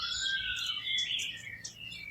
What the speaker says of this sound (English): we are hearing all these very nice sounds of the birds